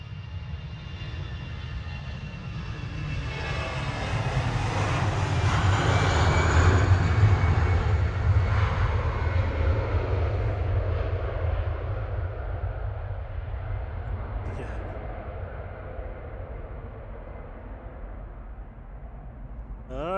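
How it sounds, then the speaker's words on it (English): An easyJet Airbus A320 Classic accelerates down the runway on its takeoff roll at Manchester Airport at night, a steady distant engine roar that swells and then slowly fades, heard alone without talk. "EasyJet 2201 to Berlin on the roll in the background."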